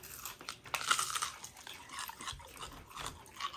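Crispy Korean fried chicken is bitten and chewed close to the mic, giving a run of faint irregular crunches and crackles with wet chewing between them, alone without talk.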